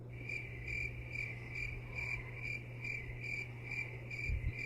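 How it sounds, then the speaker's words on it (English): Crickets chirp in a steady, rhythmic pulse, a high trilling repeated evenly over a low background hum, fairly quiet and alone. "Crickets."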